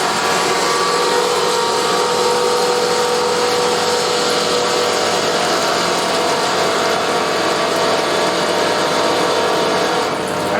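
A CNC turning center runs with its coolant on, giving a loud, continuous mechanical drone and a broadband hiss of flowing coolant that hold steady throughout with no talk.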